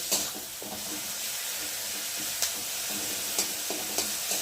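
Tomatoes stirred as they break down in a hot pan, with a steady close sizzle and occasional sharp scrapes of the spoon against the pan.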